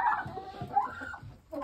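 Roosters in a coop of eleven give soft, low clucks and short murmuring calls, fairly close and quiet, with no crowing evident.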